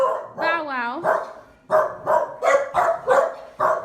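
Dogs in a home in the Philippines bark close by, starting with a rising whine and then a quick run of sharp barks in steady succession.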